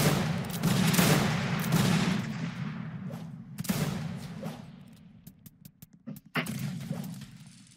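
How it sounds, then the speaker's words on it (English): Round shot fired from cannons at infantry during a Napoleonic-era battle game, heard as a burst of booming volleys at the start followed by scattered, sharper shots and thuds fading through the rest. "I'm gonna shoot round shots at their infantry"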